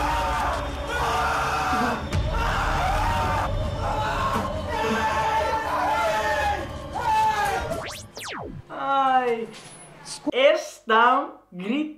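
People scream and yell during a staged horror prank built around an Annabelle doll, a loud chaotic crowd of cries and shouts that breaks into separate shrill screams near the end.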